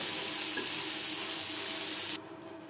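Pointed gourd (potol) fries in hot oil in a pan, giving a steady, loud, close sizzle that drops abruptly to a quieter hiss near the end.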